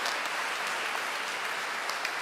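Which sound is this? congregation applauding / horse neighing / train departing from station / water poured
congregation applauding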